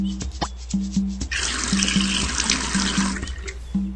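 Running water pours steadily from a tap for a few seconds, loud and close, in a Nick Jr. browser game, after a brief rhythmic game tune with a few clicks at the start.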